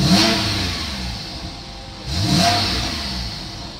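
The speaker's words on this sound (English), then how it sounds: "We can now blip the throttle," A Porsche 997.2 Carrera S engine revs twice in quick throttle blips, rising sharply then settling back to a loud idle between them.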